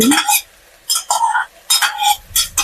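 A spoon clinks and scrapes in a pot as masala and paneer go into a Gujarati-style paneer pulao, in short close bursts separated by brief pauses.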